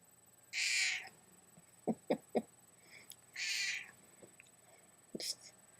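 A cat meows close by, two drawn-out calls with soft chirps and small mouth sounds between them, in a quiet room.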